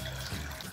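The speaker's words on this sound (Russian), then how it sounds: "И заливаю водой." A short, steady stream of water, about half a litre, runs and splashes into a microwave-safe pot, fairly quiet and close.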